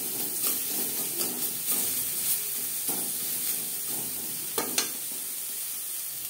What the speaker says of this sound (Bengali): লবণ হলুদ উচ্ছের সাথে বেশ ভালো করে মিক্স করে দেব।